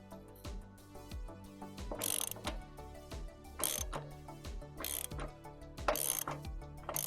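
A hand ratchet clicks repeatedly in quick bursts, close and loud, as it breaks loose a drain fitting on an Arctic Fox 865 truck camper, with short pauses between strokes.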